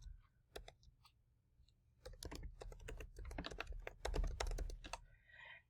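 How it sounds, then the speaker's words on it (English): Rapid keystrokes on a computer keyboard while entering text into an Excel spreadsheet, a few isolated taps first and then a dense, quick burst of clicking, close and fairly quiet. "we're going to type in miscellaneous"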